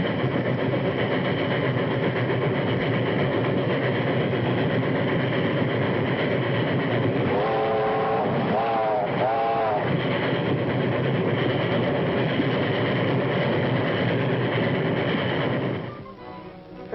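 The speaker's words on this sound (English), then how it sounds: "That's the train." A train rumbles steadily close by, with a continuous low mechanical drone, a brief squealing passage in the middle, and a change as it fades near the end.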